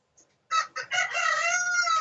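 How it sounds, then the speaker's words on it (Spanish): A rooster crows once, loud and near, starting with a couple of short clipped notes before a long sustained call, heard alone in an otherwise quiet room during a Spanish-language math class. "¿Qué fue eso? ¿Quién tiene un gallo?"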